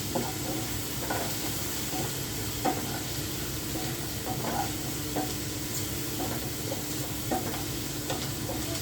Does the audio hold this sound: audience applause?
no